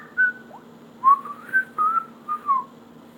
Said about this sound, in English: I can't fucking whistle.